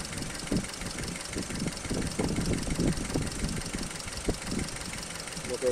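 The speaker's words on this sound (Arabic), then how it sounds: "الموتور يدور لاباس عليه" A Suzuki SX4 car engine with a failing head gasket idles at close range, giving a steady, even running sound with a faint irregular knock throughout.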